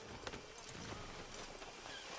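Horse hooves clip-clop at a walk in the video game Red Dead Redemption 2, a quiet, even rhythm of soft hoofbeats under a faint outdoor ambience.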